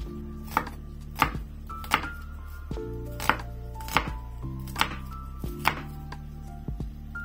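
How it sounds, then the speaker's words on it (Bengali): A native deshi onion is finely minced with a knife, giving about ten crisp, evenly spaced chops on a board, close and distinct over steady background music. "পেঁয়াজটাকে প্রথমে মাঝখান থেকে ফালি করে যতটুকু সম্ভব মিহি কুচি করে নেব আমি"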